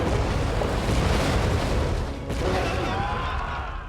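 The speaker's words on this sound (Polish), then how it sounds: "On to podpalił. I wybuchną razem wszyscy." A loud, sustained roaring blast with heavy rumbling, dense and continuous, like a big explosion from a game, dipping briefly midway before rolling on; an explosion in a Black Myth: Wukong parody game.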